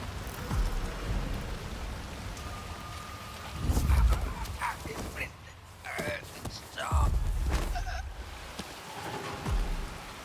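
Steady rainfall in the video game Hitman 3, a soft constant patter with a few heavier low thuds and rumbles rising and falling underneath.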